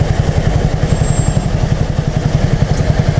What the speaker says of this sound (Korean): 아이고 오토바이 참 많네.